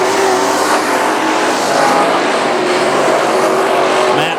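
Limited late model race cars running a heat race on an oval speedway, a dense, continuous roar of several engines at high revs, loud and sustained, heard alone.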